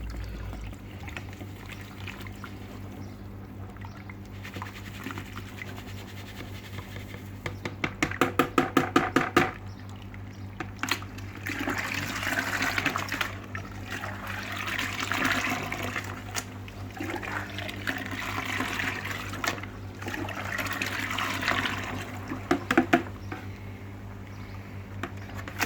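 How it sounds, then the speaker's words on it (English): Water sloshes and churns steadily in a bucket as a pump stirs it, a continuous splashing wash with a low motor hum beneath and a brief burst of rapid clattering midway, close and without talk. "That's actually shifting quite a bit of water around in that bucket now."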